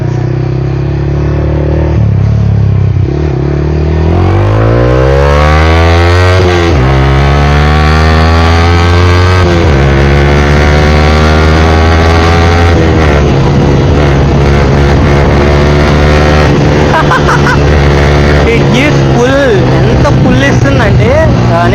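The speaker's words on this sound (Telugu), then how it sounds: "బైక్ ఎగ్జాస్ట్ సౌండ్ వినండి," A Yamaha R15 V3 exhaust roars loudly while riding, sweeping up through repeated accelerations and gear changes into a sustained high drone, heavy with wind noise close to the rider.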